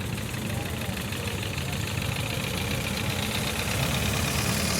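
An antique Minneapolis-Moline Universal U tractor idles at a Western Missouri tractor and machinery parade, its engine giving a steady, loud, slightly knocking rumble that continues throughout with no pauses.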